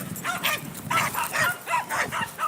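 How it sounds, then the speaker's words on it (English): Two small Scottish Terriers bark excitedly on a walk outdoors, a burst of yips and bow-wows in quick uneven bursts, fairly close, with a faint whimper between barks. "Oh, dogs. Oh, Maggie's going apeshit."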